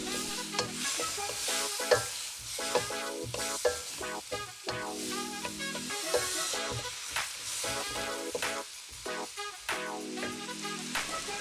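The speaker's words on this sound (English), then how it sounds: "Put in the beef and mix them up." Beef and vegetables stir-fry in a ginger sauce, sizzling steadily while a spatula scrapes and knocks against the pan in an irregular rhythm, close and fairly loud with no talking.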